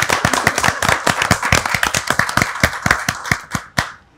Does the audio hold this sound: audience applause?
yes